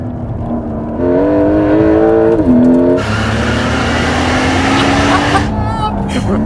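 A hybrid race car with an electric turbo accelerates hard, its engine note rising in clear stepped pitches, cutting briefly, then surging again loud and close before fading slightly at the end.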